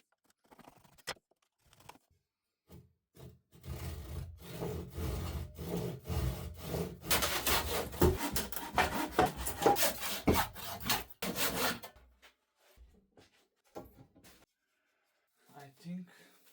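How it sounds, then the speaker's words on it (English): Scrap wood planks being sanded by hand for a heavy-duty workbench, a dense rasping rub that builds after a few scattered scrapes, continues for several seconds, then breaks off into short strokes. "sanding will not get me anywhere."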